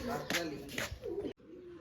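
Pigeons perched on a house rooftop coo in soft, low repeated calls at close range, with some background noise and a brief cut near the end.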